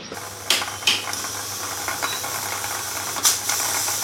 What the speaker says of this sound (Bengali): তো এখানে তোজোর জন্য আপেল সেদ্ধ করছি।